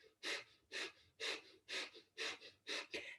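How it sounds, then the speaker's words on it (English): Rapid rhythmic panting breaths forced through the nose during a Kundalini yoga breath of fire exercise, six strong evenly spaced bursts in about three seconds, close and alone with no talking. "Beginning breath of fire, panting like a dog through the nose."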